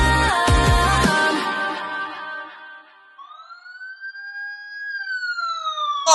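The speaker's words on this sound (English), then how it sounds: "You hear them sirens." After a brief burst of music, sirens wail with rising and falling tones, growing louder toward the end.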